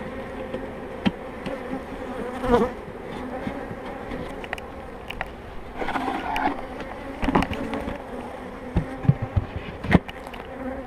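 Honeybees buzz densely around a hive, a continuous droning hum with individual bees zipping close past now and then.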